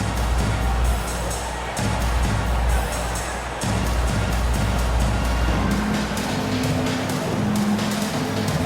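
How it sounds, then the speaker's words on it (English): Crowd applause and cheering fill a basketball arena at a Memphis Grizzlies NBA game, a steady loud wash of noise with a low rumble running underneath for the whole stretch. "Let's give him a big round of applause."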